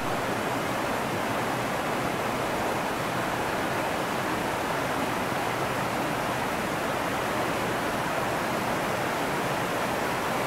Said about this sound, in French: ça cascade sec ici, hein.